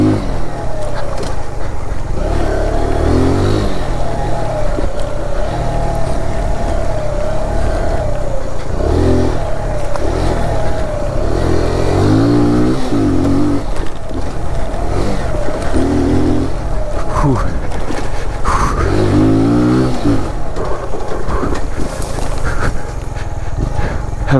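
A Kawasaki Z125 motorcycle rides along a bicycle trail, its small engine droning steadily throughout with repeated rev rises and throttle surges, loud and close with continuous wind rumble.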